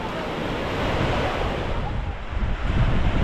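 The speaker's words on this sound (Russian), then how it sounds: "Волны." Sea waves and surf rolling onto an Odessa beach after a storm, a steady broadband roar with surges building toward the end, mixed with gusty wind buffeting the microphone.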